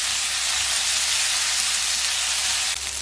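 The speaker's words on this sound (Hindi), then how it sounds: "तो इसमें डाल देंगे हम 2 दरमियाने साइज़ के हमने प्याज काट लिए हैं। अच्छे से फ्राई कर लेंगे।" Two medium chopped onions fry in cooking oil with cumin, giving a loud, steady, unbroken sizzle and hiss throughout.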